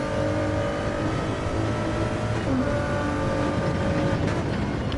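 A race car accelerates out of a corner during a WEC series qualifying session, its engine a steady, loud, close drone that climbs slightly in pitch, with no speech over it.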